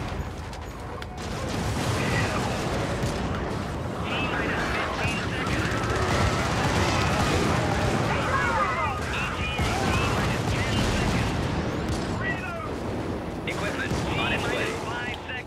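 An exosuit's cannon fires in a video game, a dense run of loud booming shots with rumbling impacts that continues almost without a break.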